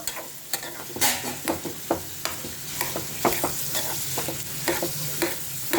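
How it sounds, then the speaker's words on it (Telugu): Onions fry in a pan for a quick curry, with a steady sizzle under repeated clinks and scrapes of stirring, close and continuous, with no talking. "సో మనకి ఆనియన్స్ అయితే బాగా వేగుతున్నాయి."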